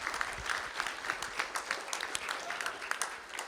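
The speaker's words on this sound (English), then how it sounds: "let's give them another great round of applause" Steady applause from an audience at a school board meeting, a sustained wash of many hands clapping, moderately distant and soft, with faint voices underneath.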